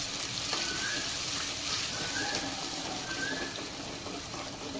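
A paste of ground spices and water sautés in a pan for umbar handi with a continuous gentle hiss and occasional light stirring scrapes, steady and close.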